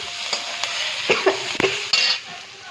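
Poppy seeds crackle and pop in a hot kadai over a soft sizzle, with a few sharp spoon scrapes and clicks against the pan, brief and close, no talk.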